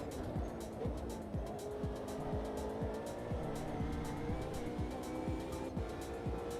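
Race car in a sim racing video game drifting wide on the marbles, engine note rising and falling through repeated rapid gear shifts, with tire squeal under a steady roar, close and continuous.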